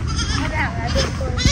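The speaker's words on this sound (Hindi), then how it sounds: "कैसा बकरा" A goat bleats on a goat farm, close and loud, with wavering cries mixed with people talking nearby.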